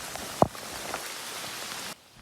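Heavy rain pours in a mountain valley during a search for a missing hiker, a steady broad hiss with one sharp knock near the start, cutting off abruptly near the end, with no talking.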